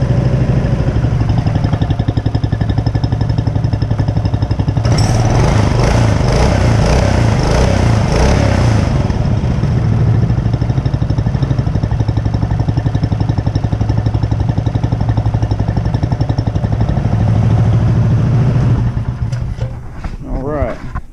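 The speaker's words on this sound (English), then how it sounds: "we'll do some revving up here with this one" A Mokai EX21/17 engine without a muffler, revving loudly: a steady idle, then a rise into a sustained, rough, high-revving roar from about five seconds that holds before dropping back near the end.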